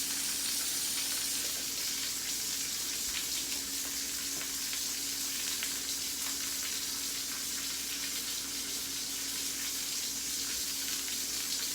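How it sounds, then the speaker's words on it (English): A steak sears in a hot pan with a steady, even sizzle and crackle lasting the whole stretch, close and continuous with a faint hum behind it and no talking. "Oh, it's starting to sear."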